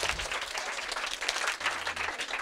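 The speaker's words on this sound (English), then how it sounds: "give yourselves a round of applause" An audience of workshop participants applauding in a classroom-style training session, a short burst of full, continuous clapping at close to moderate distance.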